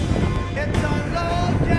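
Strong wind on a high mountain ridge buffets the microphone in a continuous loud roar with gusty surges, no voices, steady from start to finish.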